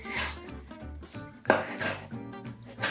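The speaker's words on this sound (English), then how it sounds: "Now just chop that roughly." A knife roughly chops fresh chili and coriander on a cutting board, a series of close, sharp, irregular taps and knocks with one louder thud partway through.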